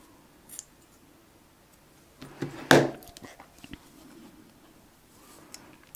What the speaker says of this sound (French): donc on coupe le fil